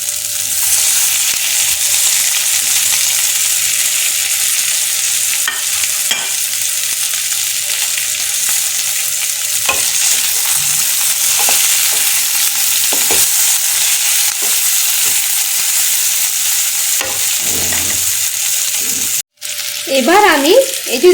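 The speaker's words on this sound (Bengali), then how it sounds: "এবার এই টোফুটা আমি কড়াইয়ের মধ্যে ঢেলে দিচ্ছি।" Washed, cubed tofu sizzles loudly in a hot wok, a dense steady crackle of frying broken by scraping stir strokes, and a brief voice is heard near the end.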